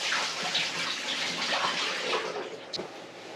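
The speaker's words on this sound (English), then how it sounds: "and dump out the water." Water pours steadily out of an AeroGarden tank as it is emptied, a close, continuous splashing gush that tapers slightly near the end, with no talking.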